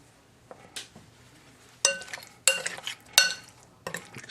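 Raw oxtail pieces tossed and stirred in flour, giving scattered clinks and scraping knocks of a utensil against a bowl, with a few sharper bursts near the end and quiet gaps between.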